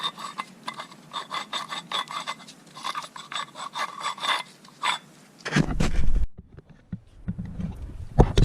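Close scraping and abrasive rubbing cleans the water pump mounting surface on a 2004 Volkswagen New Beetle 1.8T 20V engine, a series of short rasping strokes followed by a louder clatter and a pause.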